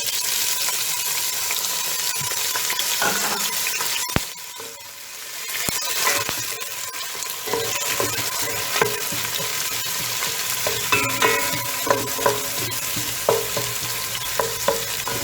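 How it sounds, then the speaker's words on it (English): Chopped purple onions fry in oil with a steady, close sizzle, broken by a few louder clinks and scrapes of stirring; no one speaks. "You allow the onions to cook a bit in the oil."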